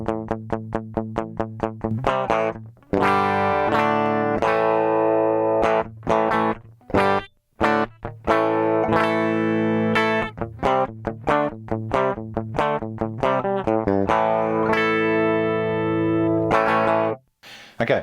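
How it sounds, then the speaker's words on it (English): Heavy distorted electric guitar loop played into a Boss GX100 processor, with chugging chords and sustained ringing notes and brief gaps between phrases, loud and close with no talking. "knowing that I want this sound to potentially be a distorted heavy tone"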